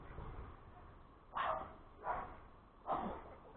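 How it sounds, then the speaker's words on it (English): Several dogs bark aggressively and ferally at a distance near houses, three sharp bursts spaced about a second apart over faint background noise. "the dogs are so feral. Almost sound like they're attacking."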